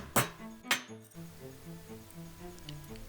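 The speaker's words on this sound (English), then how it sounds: "I use a mason chisel to form the metal around the nail." A mason chisel is struck with a hammer against metal while a medieval armour part is shaped around a nail: two sharp, ringing metallic strikes close by, followed by a faint lingering ring and quiet background hum.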